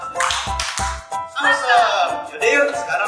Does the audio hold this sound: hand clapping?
yes